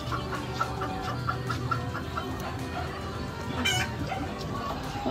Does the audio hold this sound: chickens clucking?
yes